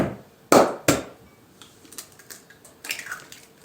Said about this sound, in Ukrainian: Беремо миску, вбиваємо туди яйце.